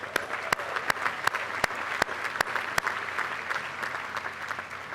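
Audience applause at Saint Joseph's University 2015 undergraduate commencement, a broad, steady wash of crowd clapping with a few sharp nearby claps standing out regularly above it.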